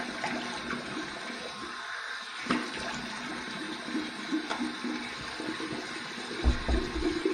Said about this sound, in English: Two final rinses, one warm, one cold. Here's my warm water rinse.